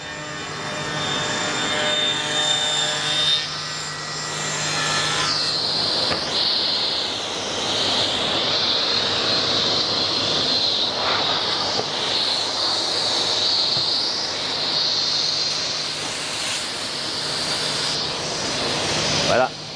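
A sliding-table panel saw cuts through a wooden panel, its loud, steady high whine holding throughout with a motor drone beneath, while someone talks over the machine.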